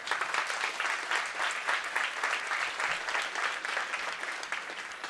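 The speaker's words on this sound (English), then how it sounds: "Let's give our speakers one more big round of applause" A conference audience claps warmly and steadily for speakers, a dense round of applause that holds for several seconds before starting to thin.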